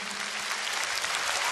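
A concert audience applauds in a warm, dense wash of clapping that stays steady and fairly even throughout the short stretch, with no voices standing out.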